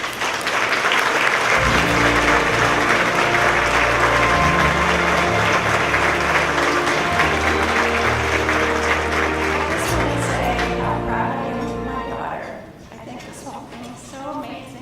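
Sustained audience applause at the 2018 Florida Inventors Hall of Fame ceremony welcomes Ellen Blakely to the stage, a dense loud clapping crowd with voices mixed in that fades away after about twelve seconds.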